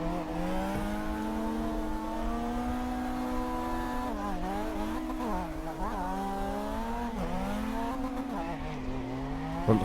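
Race car engine held at a steady high whine while the throttle is gently feathered, pitch dipping and rising in small waves over sustained driving, continuous and fairly loud, with no talking.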